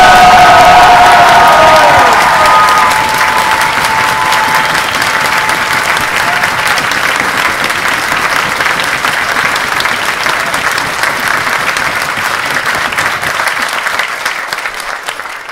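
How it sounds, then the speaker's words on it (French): A large convention crowd breaks into loud, sustained applause and cheering that fills the whole stretch, slowly tapering toward the end. "Donc je pense que si vous faites un peu de bruit pour Fanelia, ça serait cool."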